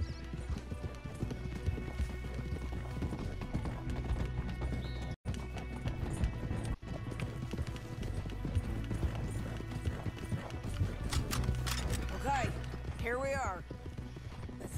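Steady clip-clop of horses galloping close by in the game Red Dead Redemption 2, with occasional whinnies and people talking over the hoofbeats.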